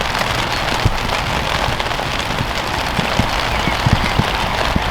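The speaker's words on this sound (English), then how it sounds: "we knew we were going to get some rain, and we're just going to have to put up with it." Heavy rain falls during a storm, drumming steadily and loudly on a nearby surface, with scattered sharper drops spattering throughout and no talk.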